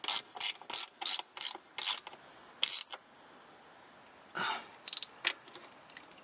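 Ratchet wrench tightening transmission pan bolts in a crisscross pattern on a 1999 Mazda Protege automatic, sharp bursts of close clicking repeated about seven times, a pause, then a few more short ratchet bursts.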